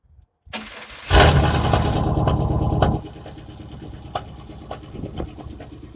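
A straight-piped 1999 Cadillac Escalade with a 5.7 Vortec V8, no catalytic converters or muffler, and a cylinder-two misfire cranks briefly and fires into a loud, raw roar. It then drops to a rough, uneven idle with occasional knocking pops, close by and with no talk.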